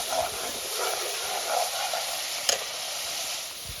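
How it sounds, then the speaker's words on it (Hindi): Chicken and meat masala spices fry in a pan, a steady close sizzle with soft stirring scrapes and one sharp clink partway through. "ये जो मसाले हैं इनको भी हम फ्राई कर लेंगे सारी चीज़ों के साथ"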